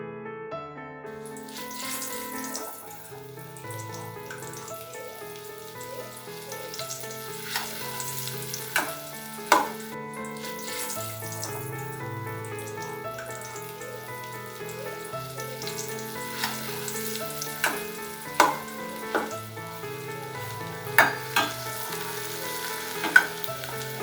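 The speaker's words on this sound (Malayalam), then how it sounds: "ഓയിൽ ചൂടായി വരുന്ന സമയത്ത് നമ്മൾ ഓൾറെഡി തയ്യാറാക്കി വെച്ചിരിക്കുന്ന മിക്സ് അതിലേക്ക് ഇട്ട് നന്നായി ഒന്ന് വഴറ്റിയെടുക്കാം" Kerala-style chicken curry premix sautéing in hot oil, a continuous crackling sizzle with occasional louder spatters and utensil clinks, steady throughout with no talking.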